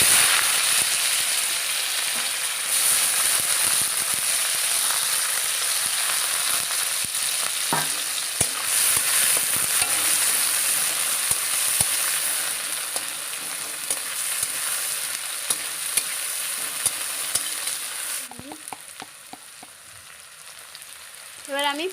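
Two large onions and a clove of garlic fry in a pan for Bengali-style egg kosha. A steady, loud sizzle runs throughout, broken by occasional stirring scrapes and taps, and quietens near the end.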